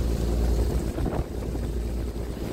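A fishing boat's engine drones steadily while trawling a net at sea, a deep low rumble close by with wind buffeting the microphone, constant throughout before cutting off at the end.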